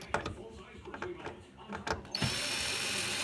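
Ratchet clicking as screws come out of a 1978-1987 Buick Regal rocker sill panel, a few scattered mechanical clicks and turns close by, then a steady hiss at the end.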